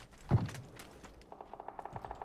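Distant gunfire in the PUBG battle royale game: one muffled thump, then a rapid series of faint, evenly spaced cracks, quiet and far off with no talk.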